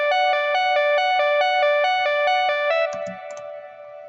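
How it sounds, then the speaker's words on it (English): A jazz guitar sample from a music production program's stock instruments, drenched in reverb, plays a steady run of evenly repeated chord notes, then trails off into a washy echoing tail with a few softer plucks. "you click on guitar, and then jazz. You pull the jazz one in there and then add some reverb."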